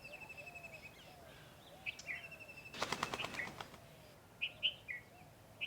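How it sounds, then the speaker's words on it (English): Spotted doves in a coastal wildlife sanctuary give a brief burst of wing flapping midway, amid scattered bird chirps and calls against quiet outdoor background. "These are spotted doves."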